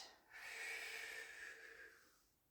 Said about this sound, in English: Just warming up the spine, breathing in